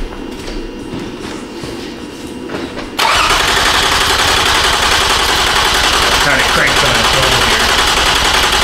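Engine of a Toyota Sienna with a camshaft sensor fault cranks over. After about three seconds of low background hum, a loud, steady, rhythmic churning of the starter begins and continues to the end without catching.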